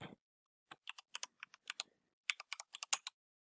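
Keys on a computer keyboard tapped in short irregular bursts while a postcode is entered, crisp and close with brief pauses between clusters of keystrokes, no talking.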